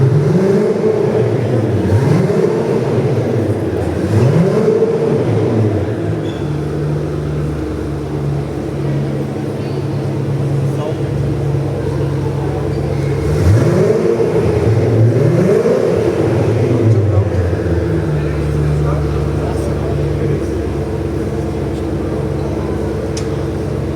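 A Maserati Ghibli at a car show revs its engine in repeated rising bursts, with two pairs of sharp throttle blips separated by a steady idle rumble, loud and close.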